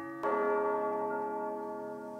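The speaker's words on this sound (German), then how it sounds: "Alle Kirchenglocken läuteten." A single church bell is struck once, its ringing tone sustaining and slowly fading over a couple of seconds.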